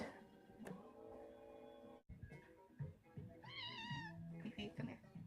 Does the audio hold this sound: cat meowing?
yes